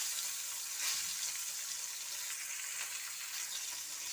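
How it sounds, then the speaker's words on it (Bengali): Parshe fish fry lightly in a pan with a steady, soft sizzling hiss that continues evenly throughout, with no talk. "মাছ আমি এপিট ওপিট হালকাভাবে ভেজে নেব"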